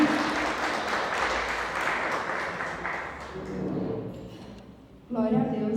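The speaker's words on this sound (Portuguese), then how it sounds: "Esse aplauso para Jesus." A church congregation at a Brazilian evangelical service applauding, a dense, sustained wave of clapping that gradually thins out, with voices calling out over it and a new burst of sound at the end.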